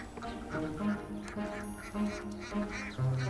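Ducks quack and honk in a backyard hobby poultry coop, several nasal calls overlapping in irregular bursts, close and moderately loud over a busy bird background.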